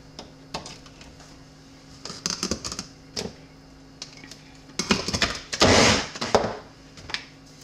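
A blender whirs through fresh garden salsa with two garlic cloves, a loud dense burst in the middle surrounded by scattered knocks and clatter of kitchen prep, with no voices.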